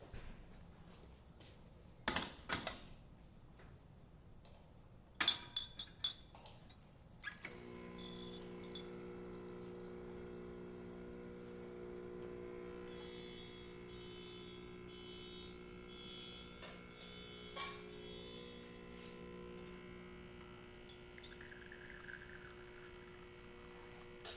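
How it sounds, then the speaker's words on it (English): Lelit Mara X espresso machine after a safety valve replacement, pulling an espresso shot: a few clacks from the portafilter and controls, then a faint steady pump hum that carries on to the end with occasional soft knocks. "So let's go ahead and make an espresso shot in it."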